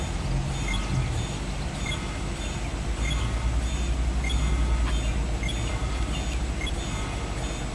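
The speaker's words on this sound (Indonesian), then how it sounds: "ada bunyi kereta." A train arrives in the audio game Constant Battle: a steady rumbling rail noise with low throb and repeated faint clicks and rattles, continuous and moderately loud, with no talking.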